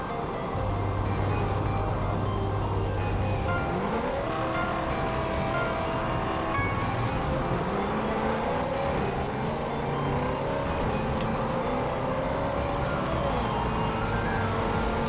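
A street rod car races in the Horizon Chase Turbo video game on PlayStation 4, its engine droning steadily and loudly with repeated rising pitch sweeps as it shifts gears and accelerates, set against continuous game music.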